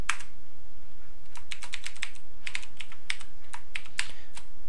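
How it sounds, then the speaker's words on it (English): A password is being typed on a computer keyboard: quick, uneven clusters of crisp key clicks with short pauses between them, up close over a steady background hiss. "So I'm going to go ahead and create my password now. And I'm typing it"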